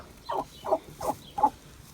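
A male turkey gobbles four times in a steady rhythm, each burst short and clear against a quiet farmyard background.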